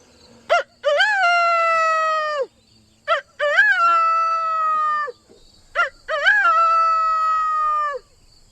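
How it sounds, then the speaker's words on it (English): A rooster crows three times, each a loud, long, drawn-out call opening with a short sharp note, separated by brief silences. "The rooster's main call is he makes a crow sound"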